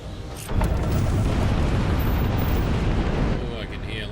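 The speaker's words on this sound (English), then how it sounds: "Oh, I can hear lots of shooting and stuff." Gunfire and explosions in the space game Starfield: after a quiet half-second, a loud, dense wall of blasts and rumbling booms runs almost continuously, easing slightly near the end.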